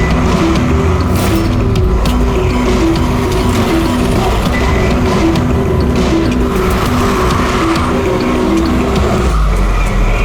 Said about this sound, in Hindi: अबे वो गाड़ी में भाग रहा है